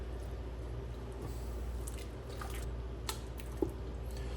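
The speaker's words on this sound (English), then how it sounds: "Just gonna stir it until the cream cheese is fully incorporated." Cream cheese stirred into a pot of beef chili mac and cheese at a camp cookout, with soft wet squishes and occasional spoon scrapes at close range over a steady low background hum.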